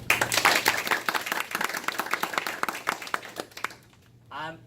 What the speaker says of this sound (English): So give a big applause to your club